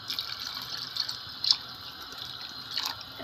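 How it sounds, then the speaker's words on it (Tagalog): A small amount of water is poured into mung beans in a cooking pot, giving soft, close trickling and a few brief splashy drips against quiet background hiss. "Lagyan natin ng konting tubig."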